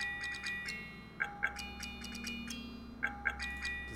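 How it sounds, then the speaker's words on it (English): Soft, quiet music box melody made for a Skyrim mod, with plinking tinkly notes in two repeating phrases over a low steady hum, no voices. "the music box."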